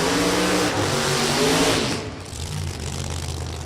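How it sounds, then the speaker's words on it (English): Supercharged Olds Cutlass drag racing car engine at a drag strip, a loud roaring engine that holds steady, then eases off and drops in pitch before settling into a lower, rougher rumble, heard from nearby. "that sound could only mean Ray Jackson is here with that supercharged Olds Cutlass"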